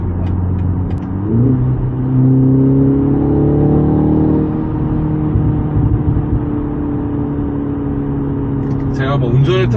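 A BMW M235i xDrive Gran Coupe with a 2.0-litre turbocharged four-cylinder accelerates hard, its exhaust note climbing through the revs, then settling into a steady, rumbling cruise heard from inside the car while someone talks.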